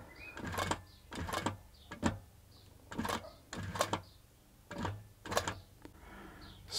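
A Hightex 7138 heavy-duty industrial walking foot sewing machine stitching slowly, almost one stitch at a time, giving short clattering mechanical bursts in an even rhythm of about eight or nine runs, each separated by brief pauses, close up with no talking.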